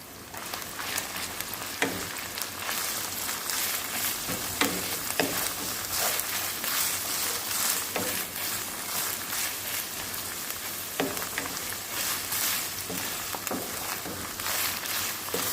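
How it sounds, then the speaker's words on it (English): Ketchup fries in oil with saltfish, giving a dense, steady sizzle and spatter like heavy rain, with occasional stirring clicks, close and continuous with no voices. "he likes a little toops of ketchup fried in the oil with the saltfish"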